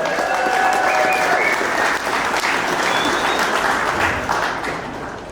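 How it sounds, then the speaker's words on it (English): A large audience at a Shelby American 60th anniversary concept car reveal applauds loudly and continuously, a dense wash of clapping with some whoops and cheers, fading slightly at the end. "big round of applause for Shelby and what they brought to the show"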